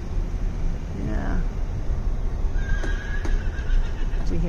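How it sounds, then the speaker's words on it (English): A horse in a trailer at an oceanfront campground lets out a whinny, with hoof clops nearby and people talking throughout. "Did you hear him neigh?"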